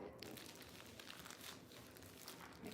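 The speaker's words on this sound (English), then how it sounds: "You guys hear the crinkling?" Steady crinkling and crunching of a plastic foot peel packet handled up close, a dense continuous rustle running throughout at low volume, no talking over it.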